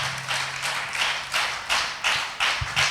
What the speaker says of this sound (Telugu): బిగ్గరగా చప్పట్లు కొట్టి దేవుని నామాన్ని గణపరచను